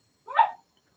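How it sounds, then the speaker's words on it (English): A dog gives one short, sharp bark in a quiet indoor room, brief and alone, with nothing else sounding around it. "And that is my dog."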